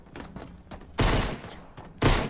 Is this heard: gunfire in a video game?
yes